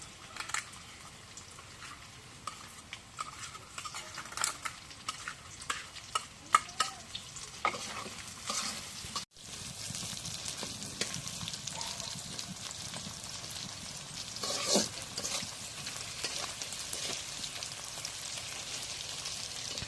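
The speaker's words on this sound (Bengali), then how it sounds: "তারপরে চালটা দিয়ে কষানি করি" Rice sautéed and stirred in goat fat for pulao, a close, steady sizzle with frequent scraping stirs, brief clicks early on, then a denser, louder frying hiss after a short break.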